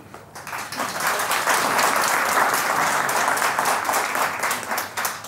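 Audience applause during a magic show, a dense, steady wash of many hands clapping that rises quickly and holds at full strength before tapering slightly at the end.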